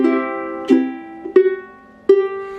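Solo ukulele picks out a short phrase from a song, three plucked notes and chords ringing clearly and alone, each attack sharp with a sustained tone decaying between them.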